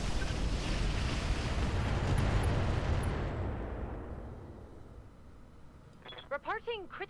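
A heavy weapon fires in the video game Roguepoint: a loud booming blast with a long rumbling roar that fades over several seconds, followed by a brief burst of electronic game sound effects.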